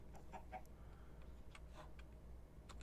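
A Minecraft chicken gives a few soft, faint clucks scattered over steady low game background noise.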